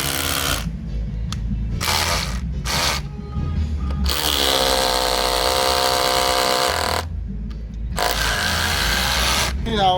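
Dongcheng DCZC 13 cordless rotary hammer running in several bursts, a loud buzzing motor whine with a rattling hammer action, starting and stopping repeatedly, close by.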